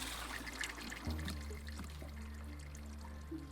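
Cold water pours steadily for a tea brew in the video game Wanderstop, a soft continuous splashing trickle with a brief louder gush partway through.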